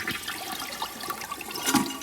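A 1980 Eljer Emblem toilet flushing up close, a loud, steady rush of water that swells toward the end, heard alone.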